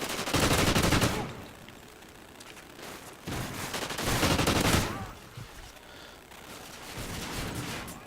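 Call of Duty video game gunfire comes in three long bursts of rapid automatic shots, each lasting about a second or more, separated by quieter gaps with faint background game sounds.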